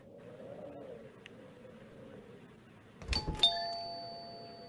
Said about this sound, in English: But the doorbell still went off.